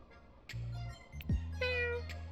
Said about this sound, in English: I think you hear a faint purring in response.